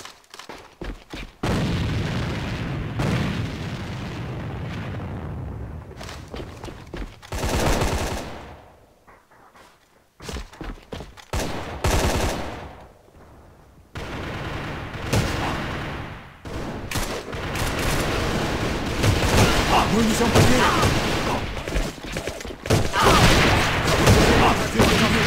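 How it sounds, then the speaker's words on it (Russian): Gunfire and a thrown grenade in the online shooter AVA: long stretches of loud, dense automatic fire with booming blasts, broken by brief quieter gaps, and a voice heard briefly in the mix. "Бросаю гранату!"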